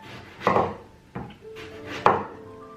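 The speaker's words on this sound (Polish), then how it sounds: "kroję aubergini" A knife slices through aubergine into rounds for a Turkish-Greek layered oven vegetable bake: three separate crisp cuts, close and fairly loud, with short pauses between them.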